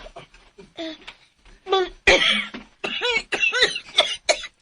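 A person coughs harshly several times in quick bursts, close up, with breathy strained sounds between them.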